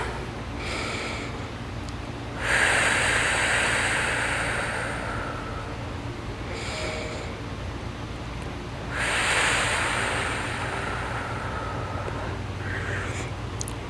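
Deep, slow breaths during a yoga strength session, two long airy exhalations about six seconds apart, close and soft with a faint background hum and no talking.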